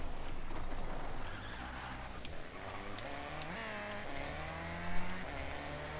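An Aston Martin Vulcan in a racing video game: a steady engine drone that rises in pitch as it revs up through the gears, with a brief sharp burst near the end and no talk.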